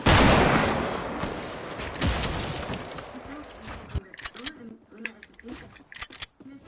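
Call of Duty 4 gunfire: a loud burst of shots opens, then sharp scattered cracks fade into quieter, sparser pops, with people talking over the later part.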